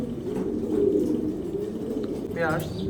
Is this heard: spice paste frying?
no